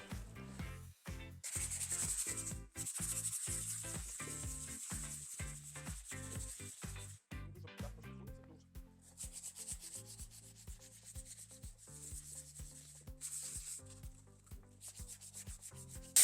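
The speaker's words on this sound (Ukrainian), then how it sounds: "Адгезія буде е, не саме краща, тому ми шліфуємо." Steady rhythmic hand sanding of a polyurethane surface rasps back and forth, with repeated strokes continuing throughout, close and fairly loud.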